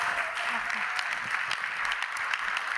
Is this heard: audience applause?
yes